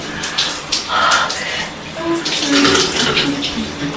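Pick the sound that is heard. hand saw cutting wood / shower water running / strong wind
shower water running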